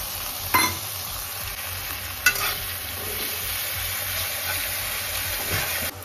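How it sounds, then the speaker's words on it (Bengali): Ginger garlic paste fries in a pan, a steady hiss with a spatula stirring through it and two sharp scrapes near the start, close and continuous with no voices. "এবার এর মধ্যে যাবে আদা রসুনের পেস্টটা।"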